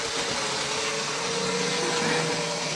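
The motor of a Hornby Dublo OO gauge three-rail 8F model locomotive whirs noisily and steadily after servicing, a constant buzzing drone with a faint tonal hum, close by and uninterrupted.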